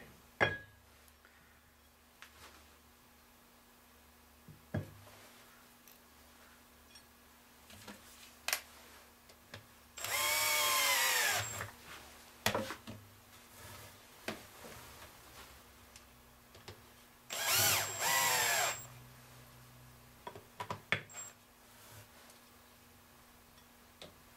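A power drill drives screws to fix a bowl plate onto a wooden blank for a mortar and pestle, two loud whirring bursts of a few seconds each standing out between quieter scattered ticks and taps of handling.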